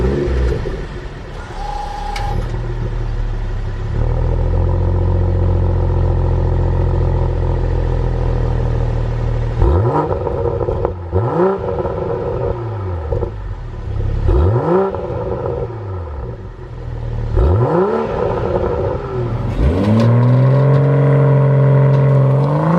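A BMW M340i xDrive G20 with its six-cylinder engine idles steadily, then gives a series of sharp, rising revs that fall away again, loud and close, with no talking.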